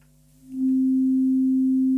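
A steady, pure electronic FM synthesizer carrier tone, unmodulated, on a Yamaha MODX/Montage, fades in and holds at one unchanging pitch, clean and without wobble.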